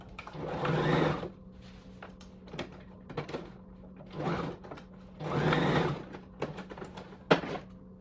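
A sewing machine runs in short bursts while stitching fabric for a halter neck circle top, each hum lasting about a second, separated by quiet pauses, clicks and fabric handling.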